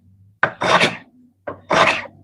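Stanley No. 4 hand plane pushed through wood clamped in a vise, giving two broad, rasping shaving strokes, each a close, loud swish with a brief lead-in scrape, separated by a pause.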